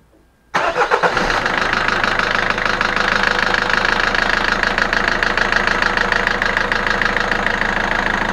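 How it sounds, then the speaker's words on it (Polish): After a moment of quiet, a diesel car engine, just treated with an injector-cleaning flush, cranks and catches, then settles into a loud, steady clattering run. "Dobra, teraz odpalimy auto."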